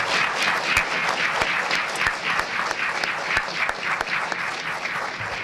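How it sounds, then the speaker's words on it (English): Applause for a panel at a parent organization president's dinner, a sustained round of clapping with distinct sharp individual claps standing out near the listener, steady from start to finish. "But a big round of applause to our panel."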